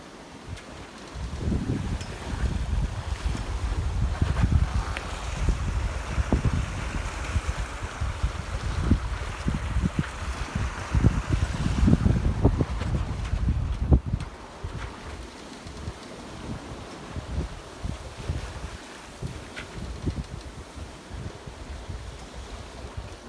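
A liveaboard sailboat under wind heading north toward Alaska, with water rushing and sloshing along the hull and wind gusting. The sound swells and eases in waves, then settles to a softer wash partway through.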